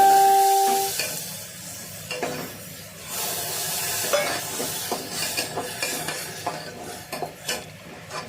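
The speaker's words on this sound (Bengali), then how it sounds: "দিয়ে মশলাটাকে কষিয়ে নিব" Spice masala with chili, turmeric and coriander powder sautéing in a pan: gentle sizzling and hiss with repeated rhythmic scrapes of a spatula stirring, preceded by a brief tonal hum at the start, no talking.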